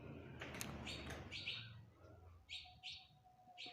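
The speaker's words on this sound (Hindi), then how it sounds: "आपको चिड़िया की आवाज़ आ रही होगी" Small birds chirping and tweeting nearby in short, bright bursts, a few faint flutters among the calls, quiet and close with light background noise.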